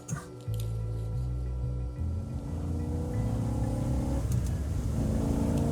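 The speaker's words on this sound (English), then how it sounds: "you hear the sound of a car out front" A car engine rumbles close by, idling and shifting tone as the vehicle rolls up, then settles into a steady low hum.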